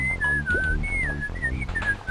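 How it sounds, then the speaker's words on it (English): A cartoon character in the Pajama Sam adventure game whistles a wandering, sliding tune during an idle animation, a clear close melody with faint background sounds and no talk. "You can hear Sam's idle animations and his whistling."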